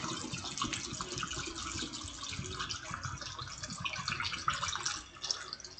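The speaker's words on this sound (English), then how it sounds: "and then you just pour in that last 1/4 liter" Apple juice pours steadily into a one-gallon glass carboy with a gurgling, splashing trickle, quiet and continuous throughout.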